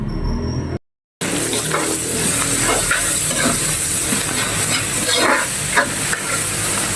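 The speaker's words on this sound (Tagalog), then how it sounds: "So nagsutay ako ng garlic, onion, and ginger plus ito kong bagoong o bagoong alamang shrimp paste" Garlic, onion, ginger and shrimp paste (bagoong alamang) sizzle and hiss steadily in a hot pan, with scattered stirring scrapes, broken only by a brief silent gap near the start.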